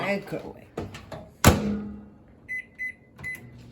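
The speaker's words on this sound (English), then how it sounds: "In the microwave." A microwave door thuds shut, then the keypad beeps three times as it is set, with a voice speaking briefly beforehand.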